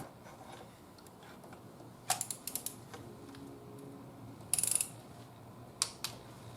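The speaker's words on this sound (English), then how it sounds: "Now I'm going to get my torque wrench, 23 Newton meters," Torque wrench set to 23 newton meters clicking as BMW 2 Series spark plugs are tightened, a few sharp metallic clicks in short bursts over a quiet background.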